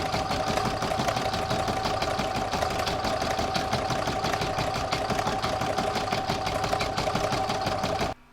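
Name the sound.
embroidery sewing machine stitching stippling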